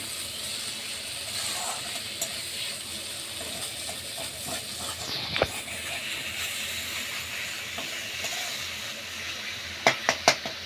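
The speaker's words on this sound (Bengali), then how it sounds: "মশলাটা আমার প্রায় কষানো হয়ে গেছে।" Spice paste for a Bengali prawn curry sizzles and hisses steadily in a frying pan, a continuous broadband crackle with a few sharper pops and spits near the end, and no one speaking.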